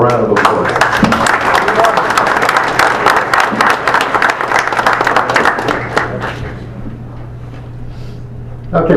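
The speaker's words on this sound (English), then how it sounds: "So for Barbara, let's have a round of applause." A room of people at an evening meeting breaks into hearty, close applause that runs for about six seconds and then thins to scattered claps.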